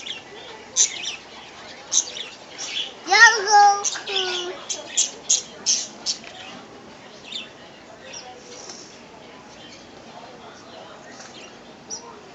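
A small bird chirps in a few quick, thin calls around the middle, fairly faint, with a young child and an adult talking softly around it.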